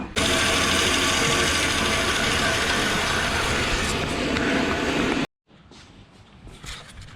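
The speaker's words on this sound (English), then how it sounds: "he's setting up the bandsaw so we can get these cuts" A bandsaw cuts quarter-inch wall steel tubing for a truck C-notch, giving a loud, steady, close mechanical grinding roar that runs without a break for about five seconds, then stops abruptly, leaving quieter shop noise.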